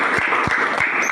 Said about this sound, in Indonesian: beri aplaus buat teman kita